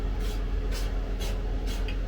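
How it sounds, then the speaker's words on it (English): Cooking oil is sprayed onto air fryer trays in a home kitchen: four short, evenly spaced hissing bursts from a nearby can, with a low steady hum underneath. "and I'm just going to spray"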